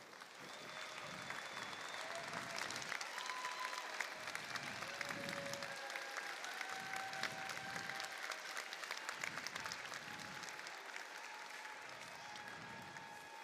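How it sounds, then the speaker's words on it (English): At a robotics competition district event, a crowd gives steady, sustained applause for Dean's List nominees, an even wash of many hands clapping at moderate distance for over ten seconds, with occasional whoops rising above it. "please stand so we can give all of you a round of applause"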